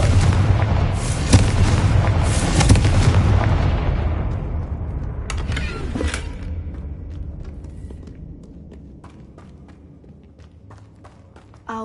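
A Confringo fire spell blasts in Hogwarts Legacy, a loud deep explosion with rumbling debris that slowly fades over several seconds.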